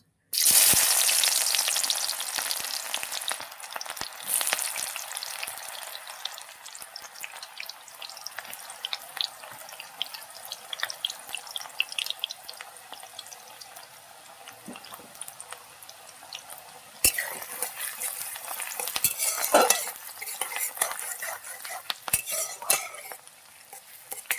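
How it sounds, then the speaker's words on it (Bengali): Onions dropped into hot oil in a pan for a beef and bottle gourd curry, a close steady sizzle with repeated metal spoon scrapes and clinks throughout. "তেলটা গরম হয়ে গেছে পেঁয়াজটা দিয়ে দেবো"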